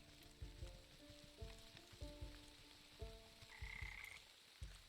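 Frogs croaking in the fantasy crafting game Wytchwood, a quick run of low, rhythmic croaks repeating in bursts over a soft sizzling bed, close and steady with a brief higher tone near the end.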